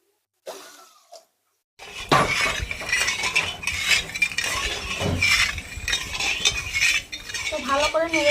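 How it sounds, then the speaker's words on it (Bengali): Sugar and water being stirred into syrup in a pan, a spoon scraping and clinking against the metal in uneven strokes after a brief quiet start, close and fairly loud. "তো ভালো করে নেড়ে চেড়ে একটা ভালোভাবে সিরা বানিয়ে নেব"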